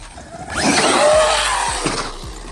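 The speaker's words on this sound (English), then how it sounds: "Sound like my gears are stripping" Traxxas Xmaxx RC truck with its gears stripping: a loud, continuous grinding whine surges in after half a second and holds steady, with a few dull low knocks underneath toward the end.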